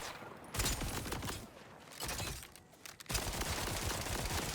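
Rapid gunfire from a weapon in the video game Borderlands 4 comes in dense bursts with brief gaps between them, loud and close, with no talking.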